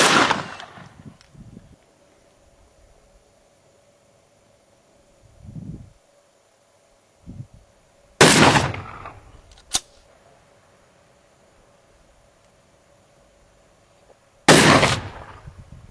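Three loud shotgun blasts with triple-aught buckshot at an outdoor range, spaced several seconds apart, each a sharp crack with a brief ringing tail, with faint handling noises between shots.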